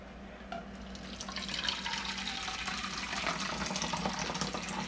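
Hot water just below boiling pours into a measuring cup in a kitchen, a continuous close splashing trickle that grows slightly fuller as the cup fills, with no talking.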